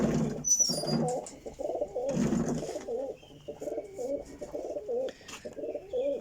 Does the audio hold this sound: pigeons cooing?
yes